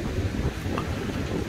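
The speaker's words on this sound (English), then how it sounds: "It may be too windy now, and lots of breeze" Strong wind blusters across the microphone on the Jaffa shore, with sea waves surging underneath in a continuous loud, rumbling wash and no voices.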